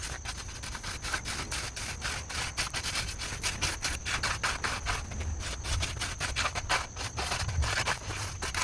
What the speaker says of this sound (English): I can now add several bags of pea gravel, spread them out with a rake so all the gaps between the pavers are full